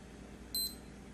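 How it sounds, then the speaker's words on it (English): A single short, high electronic beep from a Puma black digital watch button sounds once against a quiet background, crisp and close. "each button clicks, makes a beeping sound."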